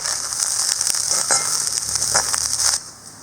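Prawns and grated coconut roasting in a pan until brown, a bright close sizzle with occasional stirring scrapes that stops abruptly near the end.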